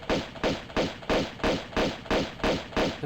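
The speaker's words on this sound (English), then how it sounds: "I love the way the pistols sound in this game." Pistols firing in the video game Tomb Raider 2, heard as a fast, even string of about nine punchy thuds, close and loud with no talk.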